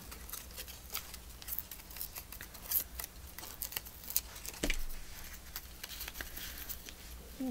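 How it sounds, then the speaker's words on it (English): Paper torn by hand into small pieces for a fern shape in a collage, a close, steady run of soft crinkly rips and rustles with no talking. "Let me just fussy tear these."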